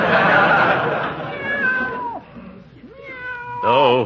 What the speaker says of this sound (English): Give the cat a boot if he bothers you, Peavy